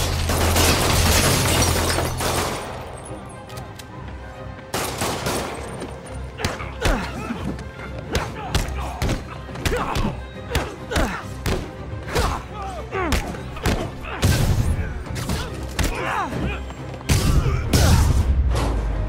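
Gunfire and impacts in the video game Marvel's Spider-Man, a dense run of sharp shots, thuds and bangs across the whole stretch, with shouting voices mixed in.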